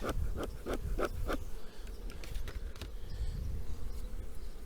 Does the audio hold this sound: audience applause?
no